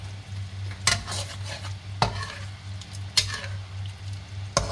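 Spicy squid with cut chilies stirred in a frying pan, a steady sizzle with four sharp scrapes of the utensil against the pan at roughly one-second intervals, no talking.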